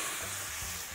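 Steady, close sizzling of tomato sauce in a hot pan, a continuous bright hiss with a faint low rumble underneath and no talking.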